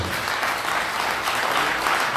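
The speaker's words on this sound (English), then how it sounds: "Please give me a lady round of applause." Dense, steady applause from a sizable crowd at a fundraising dinner fills the whole stretch, clapping blending into an even roar.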